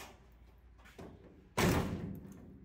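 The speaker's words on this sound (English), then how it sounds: "Let me go ahead and shut the door here." A door being shut in a workshop during a welded-floor vehicle build: a light bump, then one loud, close slam that rings out briefly, with no talking.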